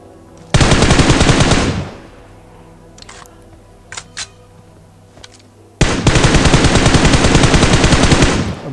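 Two long, loud bursts of rapid automatic gunfire in a battle royale video game, separated by a quieter stretch with a few faint clicks and distant pops.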